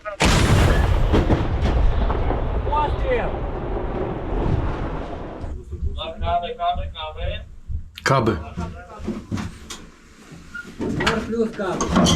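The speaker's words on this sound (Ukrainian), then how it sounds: "Постріл!" An artillery piece fires from a Ukrainian position near Chasiv Yar, a loud broadband blast at the start followed by rumbling echo, with soldiers' voices talking over the scene.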